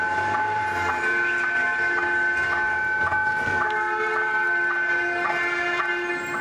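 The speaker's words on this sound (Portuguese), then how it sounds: "O trem passou aqui." A train passes through a busy central market square in a town, its steady mechanical drone with sustained tonal horn-like pitches holding loud and close throughout, with faint urban bustle behind.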